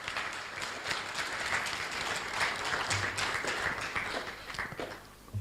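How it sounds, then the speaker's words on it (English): A large crowd applauds the President-elect of Ghana at a formal event, sustained dense clapping at steady volume that thins out toward the end, with no clear talk. "Please, a louder round of applause."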